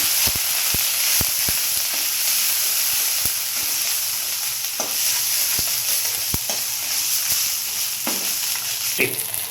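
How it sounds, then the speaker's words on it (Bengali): Cumin and ginger paste sautéing in a pan for a Bengali rui fish curry, a continuous bright sizzle broken by scattered sharp clicks and scrapes of a stirring spoon. "দিয়ে এটা আমি আস্তে করে কষিয়ে নেব।"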